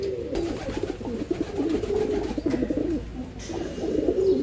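Top-breed racing pigeons in a loft compartment coo in repeated low throaty phrases, near and fairly steady, with brief pauses between bursts.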